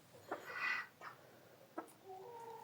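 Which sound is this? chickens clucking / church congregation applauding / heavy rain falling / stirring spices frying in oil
chickens clucking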